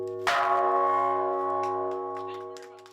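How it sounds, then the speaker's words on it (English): A single strike of the Bell of World Peace at the Stockholm Plus 50 conference rings out loud and close, its sustained metallic tone slowly fading over several seconds. "The bell."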